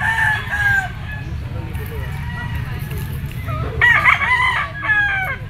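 A white-legged white Kelso gamefowl rooster, three years old, crows clearly at a pet market, with a second louder crow near the end, over steady crowd murmur and nearby talking.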